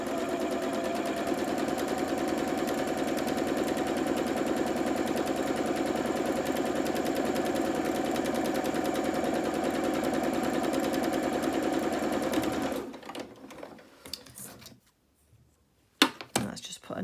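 A sewing machine stitches a fabric advent calendar, running in a steady, fast, even rattle close by for about twelve seconds before stopping, followed by quiet handling sounds.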